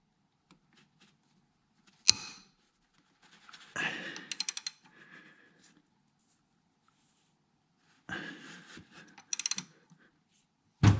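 Ratchet wrench clicking on the upper timing chain tensioner of an Audi Q5 3.2 FSI engine, worked in the engine bay: two separate bursts of quick ratcheting clicks with metallic clunks and taps between them, close and fairly loud, no talking.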